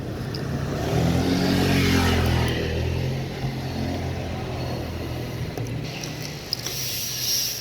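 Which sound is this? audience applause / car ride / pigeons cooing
car ride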